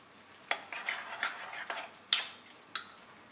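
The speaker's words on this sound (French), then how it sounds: "Et là, vous continuez à bien mélanger." A butternut squash curry seasoned with combava and salt is stirred in a pot, with a quiet background broken by six or seven distinct spoon scrapes and clinks at an uneven pace.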